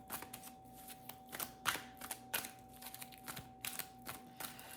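Angel Wisdom tarot cards are shuffled up close: a quick, uneven run of crisp riffles and soft papery snaps with no talking.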